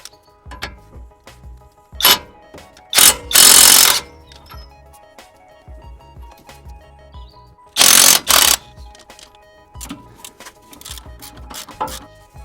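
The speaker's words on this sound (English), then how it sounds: "Now I'm gonna use the impact wrench to undo those two nuts." An impact wrench undoes strut nuts on a Honda Civic mk8 during a front strut replacement. It gives several short, loud rattling bursts, one a few seconds in and another near eight seconds, with quieter clicks and handling noise between them.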